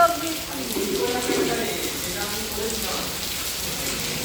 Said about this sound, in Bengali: আমাদের এখানে হচ্ছে মারাত্মক বৃষ্টি